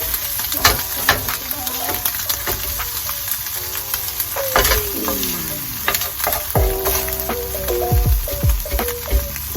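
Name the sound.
bacon frying in canola oil in a non-stick pan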